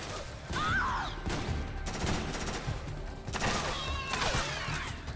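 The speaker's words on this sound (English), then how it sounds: "I'm gonna break out the trank gun and shoot" Gameplay from Metal Gear Solid 4 with a tranquilizer gun being fired at enemy soldiers; sharp, suppressed shots burst out over a busy backdrop of game noise, mechanical clatter and ambient sound, sounding fairly close.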